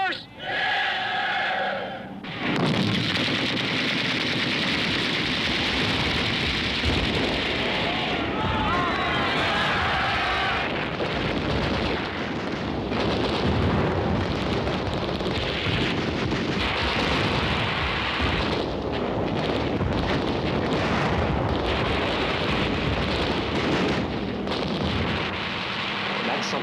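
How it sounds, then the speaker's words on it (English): Live machine gun fire sweeping low over an army infiltration course, a sustained loud roar of bursts and blasts that runs continuously after a brief quiet opening, with voices mixed in. "They have live machine gun fire over your head."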